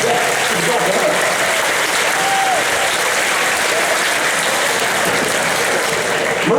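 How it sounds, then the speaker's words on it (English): Sustained audience applause at a presentation, a dense, steady wash of clapping at full volume throughout, with faint voices mixed in beneath it. "let's give Angela a huge round of applause"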